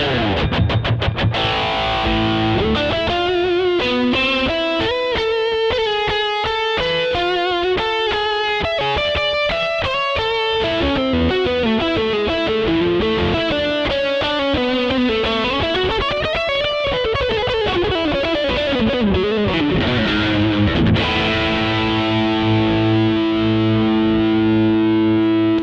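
Electric guitar played through an RPM Pedals Strips Last Lie 7-in-1 multi-effects pedal with distortion, lead boost and delay engaged, heard alone as a steady, loud run of sustained melodic lead lines with echoing repeats trailing the notes.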